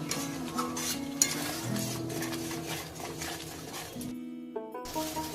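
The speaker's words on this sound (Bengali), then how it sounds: "মশলাটা আমি 10 মিনিট কষিয়ে নিলাম।" Spice masala for mutton curry fried and stirred in a kadai, with a steady sizzle under repeated spoon scrapes against the pan, briefly cut off near the end before resuming.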